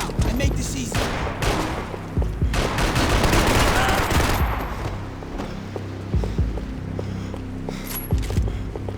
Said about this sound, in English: Someone stop him shooting!